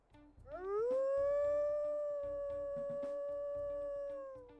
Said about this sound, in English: We'll also go ahead and listen to her howls.